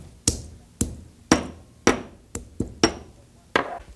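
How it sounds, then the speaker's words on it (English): Cardamom pods are crushed in a mortar and pestle while cooking an Indian rice dish: about eight sharp, hard pounding strikes at uneven intervals, close and distinct, each with a short ringing decay. "Let's put it in our mortar and pestle here"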